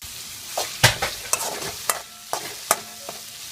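Horsegram rasam simmering lightly in a pot with a few ladle stirs and soft bubbling, sharp intermittent scrapes standing out over a quiet background, no voices.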